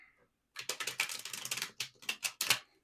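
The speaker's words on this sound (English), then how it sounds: "As I'm shuffling the tarot" Tarot cards being shuffled by hand, heard close up as a dry, crisp run of rapid riffling clicks in short bursts after a brief quiet start.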